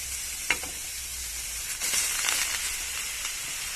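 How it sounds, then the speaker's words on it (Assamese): Jackfruit seeds fry in a hot wok with a constant hissing sizzle, a sharp clink early on and a surge of crackle as they settle into the oil. "প্ৰথমতে গৰম কেৰাহীত এয়া মই কঁঠালৰ গুটিকেইটা ঢালি দিছোঁ।"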